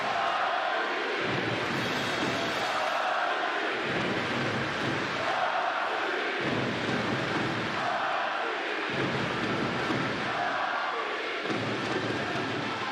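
Loud, sustained roar of a tennis crowd at a Davis Cup match, Marin Cilic against Corentin Moutet, surging in rhythmic waves of chanting and cheering that fill the arena without pause.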